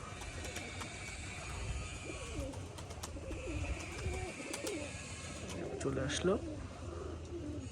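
Pigeons coo in a loft, among them a black Jack male, with someone talking over the steady low murmur of birds and a louder call near the end.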